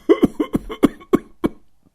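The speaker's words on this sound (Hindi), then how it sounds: "खांसी आ रही, मैं पानी लेकर आऊं?" A man, a father-in-law in a household scene, coughs in a quick series of about six harsh, close coughs, fading out at the end.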